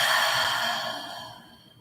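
A long, breathy exhale during a yoga flow, loud at first and tapering off over about two seconds, with no talking.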